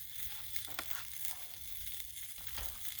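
Roast beef sizzles on a Blackstone griddle with a steady, close frying crackle and a few sharper pops throughout.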